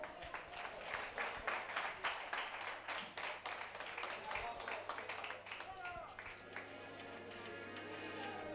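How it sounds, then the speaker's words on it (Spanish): Audience applause for a karaoke duet at a karaoke night in Barbastro, a dense wash of clapping from a mid-sized crowd that swells early, then thins and fades as music creeps back in underneath. "¡Un aplauso para ellos!"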